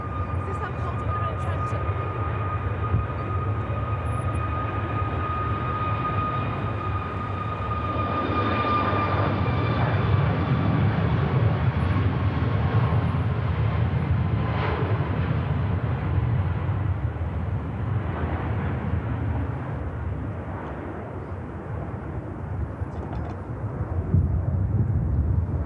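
A jet aircraft departing at Manchester Airport, a long steady engine roar with a whining tonal hum, rising and then fading gradually over about twenty-five seconds at a moderate distance.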